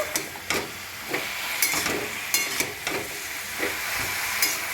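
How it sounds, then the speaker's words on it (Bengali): Vegetables with salt and turmeric sizzle in a frying pan while being stirred, a steady close hiss broken by repeated scraping strokes of the spoon, with no talking. "নাড়াচাড়া করে নুন হলুদটা ভালো করে এপিট ওপিট করে দেব।"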